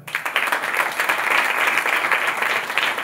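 An audience claps together in a church, a dense, even patter of many hands that keeps a steady level for a few seconds, with no voices over it.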